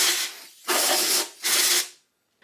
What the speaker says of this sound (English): Just clean these out with some brake clean.